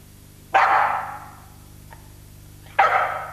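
A performing trick dog gives two loud, sharp barks spaced about two seconds apart, each with a short ringing tail, close by, with a faint tap between them.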